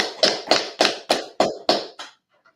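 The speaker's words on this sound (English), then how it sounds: "Clap it up." Seven sharp, evenly spaced claps ring out in a steady rhythm at a street gathering of ISUPK in Harlem, New York, then stop abruptly and leave near silence.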